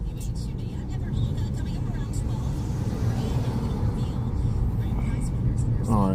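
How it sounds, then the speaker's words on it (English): Steady city street traffic on Central Park West, a continuous low rumble of cars and buses passing at moderate distance, with a brief higher tone near the end. "Let's see how the traffic moves over here now"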